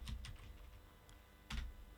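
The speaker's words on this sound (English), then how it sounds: "I'm going to quantize that also by pressing Q on my keyboard" A single Q key pressed on a computer keyboard during music production, heard as a short sharp click near the start and another distinct tap later, each standing alone over quiet background.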